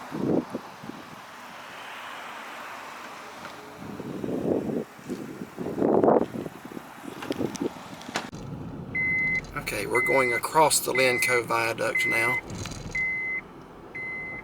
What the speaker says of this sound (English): that beep you're hearing means I forgot to put my seatbelt on